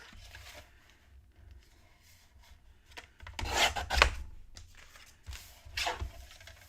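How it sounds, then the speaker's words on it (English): A paper trimmer slices pink gingham paper into a square, giving soft scraping, rubbing strokes that build to a couple of louder close swipes, with quiet handling between them. "I'll just bring out this trimmer here. So I'm going to cut this to a 4x4 square."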